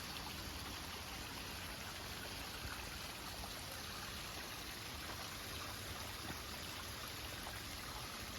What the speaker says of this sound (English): we have lots of water here on the Crow Wing.